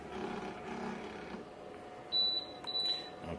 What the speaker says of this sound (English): Okay, it just beeped, so that indicates that it's done.